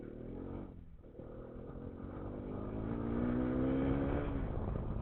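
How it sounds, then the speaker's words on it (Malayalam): Hero Xpulse 210 motorcycle with its 210cc engine running, a steady close engine drone that rises in pitch and grows louder over a few seconds as the revs climb. "ഈ ഒരു ഹീറോയുടെ ഈ ഒരു 210cc എൻജിൻ"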